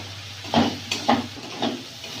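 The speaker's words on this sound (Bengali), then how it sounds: "দিয়ে ভালো করে নাড়াচাড়া করে নেব" A spatula stirs rice and sugar in a hot frying pan in a village kitchen, giving three evenly spaced scraping strokes over a low, steady hiss.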